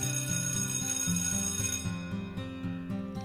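A school bell from a Doki Doki Literature Club mod, a loud repeating electronic ringing with a steady pulsing pattern that sounds close and clear for about three seconds, with no voices.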